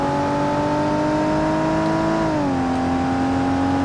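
A sports car engine in BeamNG.drive roars loudly and steadily, holding a high pitch, then dropping as it shifts down, continuous and close with no voices.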